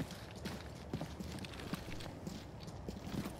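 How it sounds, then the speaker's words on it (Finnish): Footsteps in the video game Arena Breakout Infinite: a steady run of soft, muffled steps repeats at an even pace, faint beneath a constant background hum. "Täällä on useammat askeleet."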